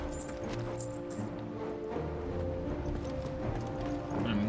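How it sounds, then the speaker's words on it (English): Horse hooves clip-clop in a steady walking rhythm in Final Fantasy 16, fairly quiet, over soft game ambience with a low mechanical hum. "there's the horse"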